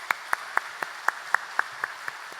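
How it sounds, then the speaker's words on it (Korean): A congregation at a church service applauds in sparse, evenly spaced claps, about ten sharp distinct hits in a short burst at moderate volume. "박수로 축하해 주십시오."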